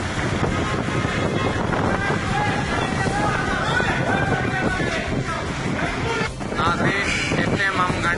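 Strong storm winds with light rain in Karachi roar steadily and loudly through a garden area, a dense continuous rush with gusty swells and a brief dip near the end, with possible faint voices mixed in.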